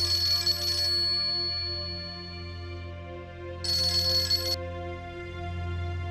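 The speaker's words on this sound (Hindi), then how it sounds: "मैं इंस्पेक्टर शाहिद को फोन करता हूँ।" A phone rings in two short electronic bursts separated by a pause, over a steady low background drone; no one speaks.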